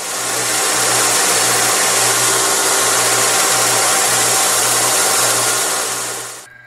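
A belt grinder with a flat platen shapes a hunting knife: a loud, continuous high whir with a faint pulsing undertone, cutting out abruptly at the end.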